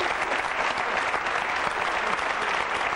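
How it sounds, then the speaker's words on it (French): Audience applause on the French TV game show "Passe à ton voisin!" for contestants who just won, a dense, steady wash of many clapping hands filling the whole moment with no talk. "On les applaudit très fort."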